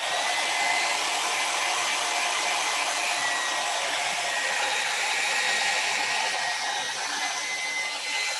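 A hair dryer blows steadily on acrylic paint, a loud continuous broadband whoosh for several seconds with no talking.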